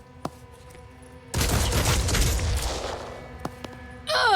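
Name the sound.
gunfire in Phoenix Point video game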